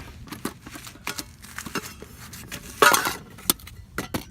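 Metal camping cook pots, a Snow Peak and a Trangia set, clink and rattle as they are handled, with scattered sharp knocks and one louder clattering burst near the end, close by and without talk.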